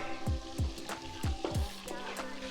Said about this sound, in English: As soon as our butter is melted, I'm gonna start adding some flour.